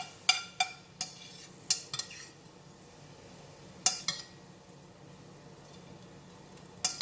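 Fried garlic lifted out of a pan with metal utensils after the heat is switched off, giving a few sharp scattered clinks and scrapes against a quiet kitchen background.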